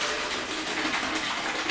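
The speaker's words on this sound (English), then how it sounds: "It is time to drain the pasta. Put that right in the sink." Pasta cooking water pours from a pot into a kitchen sink, a loud continuous rushing splash that stays close and steady throughout, with no talking over it.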